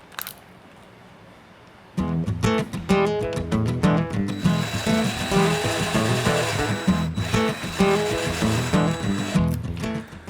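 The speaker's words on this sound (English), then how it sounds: "You are drilling into fiberglass" After a quiet start, a power drill with a 1/4-inch bit starts up loud and close, grinding steadily with a rough, rhythmic chatter as the bit bites into soft fiberglass on a Toyota Tacoma truck bed.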